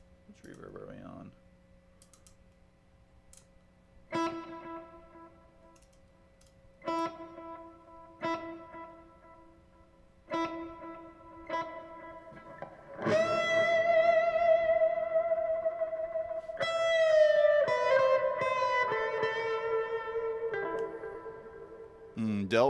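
Electric guitar plays spaced single notes that trail off into a washy reverb, then builds to longer, sustained chords that hang and fade.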